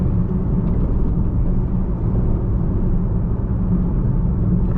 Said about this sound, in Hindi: रोड नॉइज थोड़ा ज़्यादा आ रहा है इस गाड़ी में, टायर का नॉइज है, इंजन नॉइज नहीं है